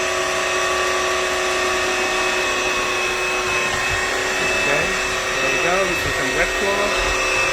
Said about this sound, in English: Right now it's a vacuum.